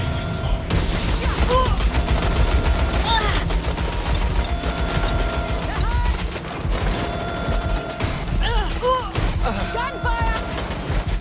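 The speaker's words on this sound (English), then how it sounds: "Gunfire!" Rapid gunfire in the video game Watch Dogs Legion, dense bursts and fusillades crackling over a continuous roar of action, with overlapping weapon sounds loud and close throughout.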